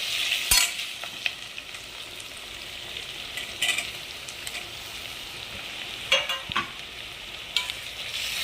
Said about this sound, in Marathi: आता मी त्याच्यात टोमॅटो टाकणार आहे.